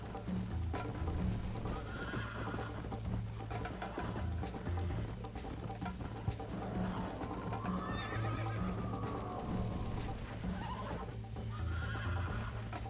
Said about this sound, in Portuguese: o cavalo parou e me derrubou